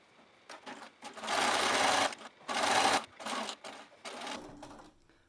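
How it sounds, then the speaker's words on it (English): A sewing machine stitches along the top edge of a tote bag in several close, loud bursts of running stitches separated by short pauses. "you're going to sew along the top edge at 1/2 inch seam allowance all the way around"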